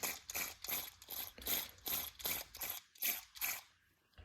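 A Snap-on or MAC hand tool's head is spun by hand, giving a quiet, close ratcheting clatter in about nine rhythmic bursts, each a rapid run of clicks, with no talk.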